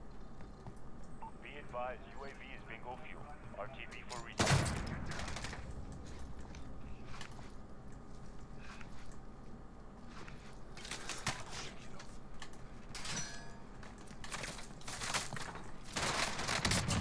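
Gunfire in Call of Duty Warzone with a Tec 9 loadout: a loud burst breaks out, followed by repeated volleys of shots at mid distance over a steady game background, with a voice talking throughout.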